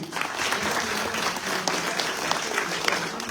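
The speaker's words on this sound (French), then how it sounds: "L'homme de réseau, vous pouvez l'applaudir aussi." Steady, dense applause from an audience at a gathering carries on without a break, moderately loud, with faint voices mixed into the clapping.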